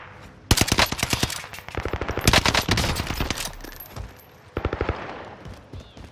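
Gunfire in a video game: loud rapid bursts of automatic fire, one long volley followed by a shorter burst after a brief pause.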